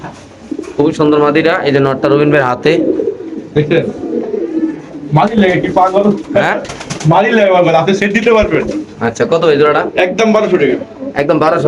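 Pigeons coo in a Bangladeshi pigeon seller's loft, their soft repeated calls running continuously under loud, close conversation between several men.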